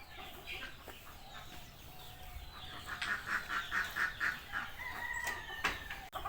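Village chickens clucking while a rooster crows, a series of rhythmic calls rising midway and continuing with other fowl noises, moderately faint in an outdoor farmyard setting.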